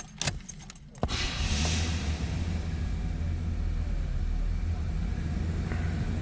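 Keys jingle briefly before a 1987 Chevrolet Monte Carlo SS Aerocoupe V8 catches on a cold start, then settles into a steady, low, rumbling idle that holds close and even to the end.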